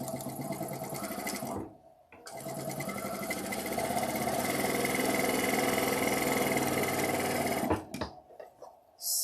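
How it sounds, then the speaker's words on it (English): A sewing machine stitching a seam in fabric runs steadily and loudly for several seconds, pauses briefly, then runs again before stopping with a few short bursts at the end. "We're just going to sew right here."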